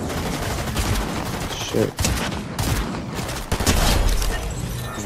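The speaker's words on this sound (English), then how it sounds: "Why are they shooting us?" Sustained gunfire aimed at the player in Fortnite on PC, a dense, continuous barrage of rapid shots with brief dips, while a voice speaks briefly over the shooting.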